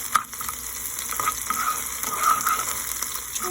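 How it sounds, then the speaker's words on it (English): Onions frying in a pan on a home kitchen stove, a steady close sizzle with brief crackling pops and a faint scrape as they are stirred. "The onions are cooking."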